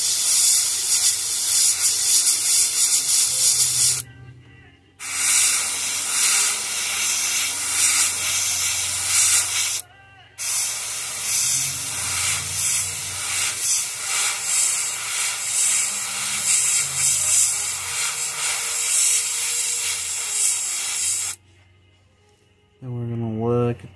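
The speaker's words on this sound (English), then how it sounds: "and then we're gonna spray" Long, steady hissing bursts of an airbrush or spray gun laying paint over a bluegill bar stencil, broken by a few brief pauses, close and loud.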